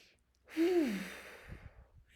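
A single deep breath is drawn in and let out as a long voiced sigh, close and soft, trailing off into quieter breathing.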